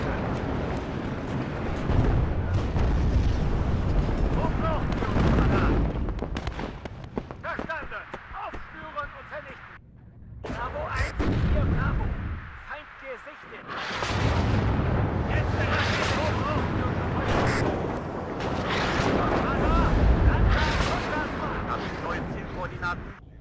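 Rocket artillery fire in the WARNO video game, with dense rumbling blasts and crackling impacts that stop briefly partway through before resuming, loud under steady talk.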